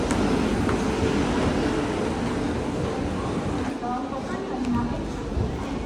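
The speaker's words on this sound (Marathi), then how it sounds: "ट्रेन जस्ट लागली आहे, जस्ट ट्रेन आली आहे." A train pulling into a platform at Thane station, a continuous low rumble with scattered clatter under a busy crowd, and people talking close by throughout.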